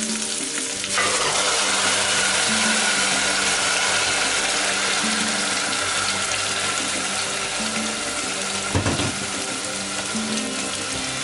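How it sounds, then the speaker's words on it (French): Tomato is poured into a hot cooking pot, setting off a loud, steady sizzle and frying hiss that fills the whole stretch, with a brief burst of fresh crackling near the end. "Je viens verser la tomate"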